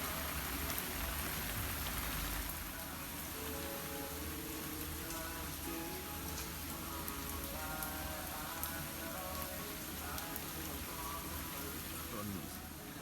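A garden water sprinkler sprays plants in a foliage-plant garden in South Korea on a summer morning, giving a steady, close hiss of falling droplets throughout while someone talks over it.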